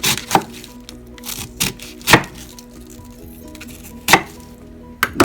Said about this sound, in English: Just slicing down through each of the 4 wedges.